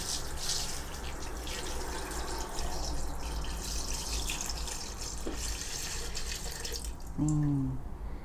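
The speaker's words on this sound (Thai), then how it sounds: "แล้วเราก็ใส่น้ำนะคะเพื่อนใส่น้ำลงไป" Water running steadily into a container of fruit peels to make a fermented peel brew, a constant close splashing pour throughout, with no speech.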